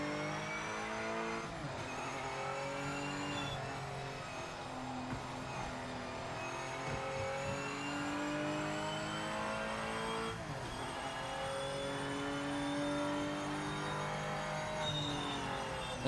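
Race car engines wail in the video game Project Motor Racing, with several layered revving tones rising and falling through gear changes, continuous and steady for the whole stretch without talk.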